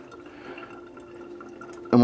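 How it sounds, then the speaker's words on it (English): Water filling a faulty pressure washer valve: a quiet, steady trickle and gurgle close by, ending in a sudden louder clunk. "and what we'll do is fill it with water"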